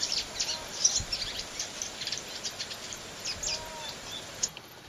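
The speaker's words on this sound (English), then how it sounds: "Welcome swallows gather before moving on." Flock of welcome swallows gathering outdoors in autumn, giving quick high twittering chirps in scattered bursts, fairly distant and soft over a constant background hiss.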